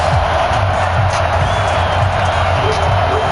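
A stadium crowd roars in an EA Sports NFL video game before a Tampa Bay Buccaneers versus New Orleans Saints matchup, a dense steady cheering wash with faint whoops throughout.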